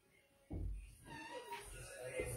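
A voice imitates a cat's meow, a drawn-out mewing call repeated amid nearby talking.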